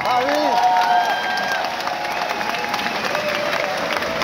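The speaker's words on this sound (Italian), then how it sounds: "Quindi un applauso." Concert crowd at a live rock show in Milan applauding and cheering, a dense steady wash of clapping with shouts and whistles throughout.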